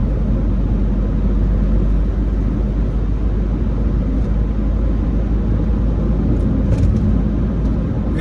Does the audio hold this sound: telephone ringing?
no